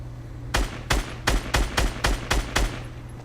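Gunfire in Fortnite Battle Royale: eight loud, evenly spaced shots in a steady rhythm, each a sharp crack with a booming low end, over a constant low hum of game audio.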